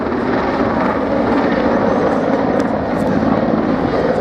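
A military helicopter operated by a NATO ally flies at the Biggin Hill Airshow, its loud, continuous rotor and engine roar steady and close throughout.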